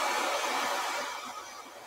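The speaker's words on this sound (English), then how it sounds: "Take a cold blow dryer and go back and press it in again." A hair dryer on the cold setting blows air onto a curly wig, making a steady close whoosh that eases slightly toward the end, with no voices.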